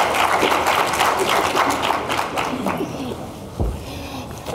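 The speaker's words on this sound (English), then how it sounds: "We ask that you give her a big round of applause, ladies and gentlemen" Applause fills the room at a small business week conference, a dense wash of clapping from the audience that gradually thins out toward the end.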